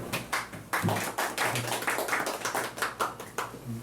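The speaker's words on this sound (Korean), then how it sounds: "박수." A small audience at a bust unveiling ceremony for a professor claps for a few seconds, a quiet patter of scattered hand claps recorded from some distance, with no talk.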